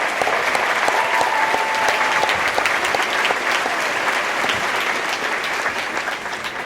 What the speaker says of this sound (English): Please give all of these amazing people a huge round of applause.